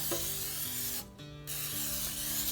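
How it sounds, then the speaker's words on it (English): A close, hissing spray of cooking spray onto parchment paper in baking pans, in two bursts with a brief pause between, over a faint low hum. "I go ahead and I spray the parchment paper in the pans"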